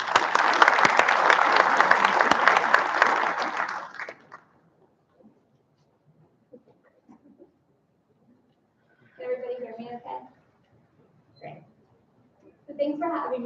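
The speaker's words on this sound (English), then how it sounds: "One more round of applause for Sarah." Conference audience at DevOpsDays Raleigh 2023 breaking into loud, dense applause for about four seconds before it fades, followed by quiet stretches and brief bits of talk.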